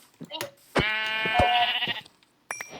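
A sheep's bleat from the video game Minecraft rings out for about a second, wavering and fairly close, with brief voices and clicks just before and after.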